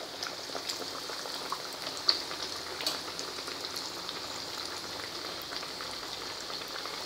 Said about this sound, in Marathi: आता आपल्याला हळूहळू एक एक हा वडा यात सोडायचा आहे। एकावेळी कढईत जेवढे बसतील तेवढे वडे आपण तळून घेणार आहोत।